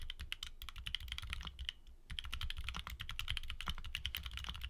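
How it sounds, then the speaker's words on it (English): Typing test on a keyboard fitted with quiet switches, a rapid, steady stream of soft, muffled keystrokes with a brief pause partway through, heard close and alone. "Now here's the sound test."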